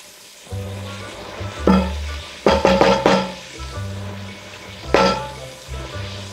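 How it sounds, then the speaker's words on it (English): Bacon browning on a stovetop over medium heat, a steady low sizzle broken by a few louder clatters and scrapes of a utensil in the pan, with a soft constant hum underneath. "we're gonna add in our bacon and we're gonna cook it until it's browned"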